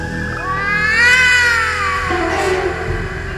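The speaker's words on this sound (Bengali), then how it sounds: "বাইরে একটা বিড়ালের ডাক শুনতে পেলাম" A long, drawn-out cat meow rising then falling, loud and close, followed by a second shorter cry over a low steady rumble.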